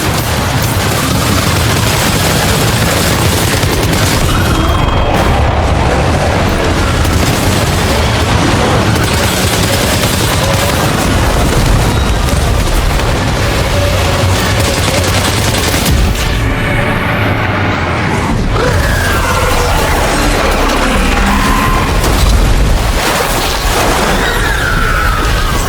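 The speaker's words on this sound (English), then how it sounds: "Opening fire now." Dense, loud bursts of gunfire and booming explosions in the video game Death Stranding 2, rapid volleys and heavy crashes layered continuously for over twenty seconds.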